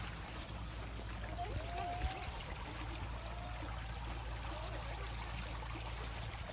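A small creek flowing steadily, with a continuous close wash of running water and no breaks, lightly mixed with faint background sounds.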